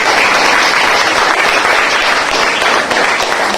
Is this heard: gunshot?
no